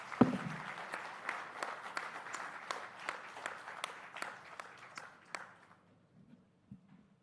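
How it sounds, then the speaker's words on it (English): Audience members at a big news summit clap for Finance Minister Nirmala Sitharaman, a thin, scattered applause with distinct individual claps that gradually dies away into near silence. "So round of applause to Nirmala ji for that."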